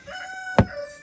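Chickens in a backyard chicken yard make a crowing, clucking call, a brief tonal cry with a single sharp thump near the middle, close by and with no talk.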